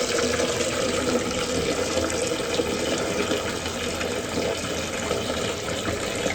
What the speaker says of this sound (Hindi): कढ़ाई ये है, इसको धोने जाते हैं, पानी भी ले आते हैं